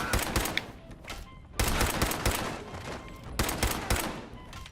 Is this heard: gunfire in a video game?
yes